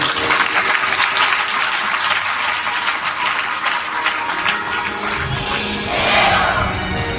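A satsang audience claps in a dense, steady burst of applause that fills the hall continuously and swells slightly toward the end.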